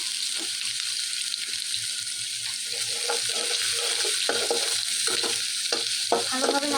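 Spice paste for a pangash fish curry frying in a pan, stirred repeatedly with scraping utensil strokes over a continuous sizzle, close and fairly loud, with no talking.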